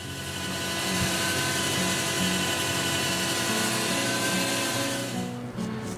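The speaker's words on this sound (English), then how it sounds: "this is just me sanding from 80 to 600" Steady whirring hum of a spinning lathe with a continuous abrasive sanding rasp as a walnut bowl is sanded from 80 to 600 grit, fairly loud and unbroken, winding down at the end.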